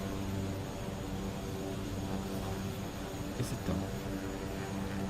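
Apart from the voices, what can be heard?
aircraft engines in Microsoft Flight Simulator video game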